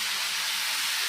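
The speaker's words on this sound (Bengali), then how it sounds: "ফুটন্ত জল দিয়ে দেওয়া হলো।" Boiling water poured into a pan of fried mung dal and dalia, a brief close hiss and rush of steam, steady and loud for about a second with no speech.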